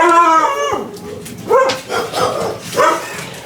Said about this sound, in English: And the dogs are gonna go crazy.